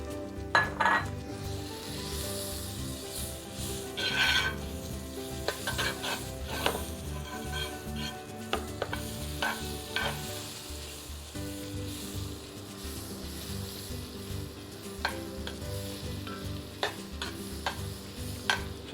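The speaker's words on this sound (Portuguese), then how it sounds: "o seu filho pode ficar brincando de balançar a manteiga gelada para lá e para cá até ela derreter" Cold butter melts with olive oil in a pan as it is swirled back and forth, producing a continuous sizzle mixed with metallic scrapes and clinks from the pan.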